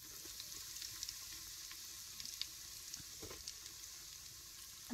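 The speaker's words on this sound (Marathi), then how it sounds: "चटणी बी तेलात अशी चांगली भाजून घ्यायची." Kolhapuri chili chutney sizzles and fries in oil in a pan over a village wood-fired stove for mutton curry, a steady soft hiss with occasional stirring clicks and no voices.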